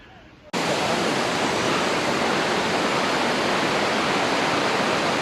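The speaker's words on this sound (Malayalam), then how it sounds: "3ആം വെള്ളച്ചാട്ടം." The third waterfall at Thusharagiri in Wayanad, Kerala, a dense, loud, continuous roar of falling water that bursts in suddenly after a quieter moment and holds steady and close.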